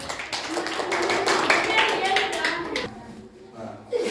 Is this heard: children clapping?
yes